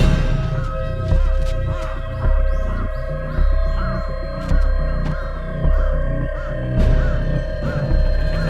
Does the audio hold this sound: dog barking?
no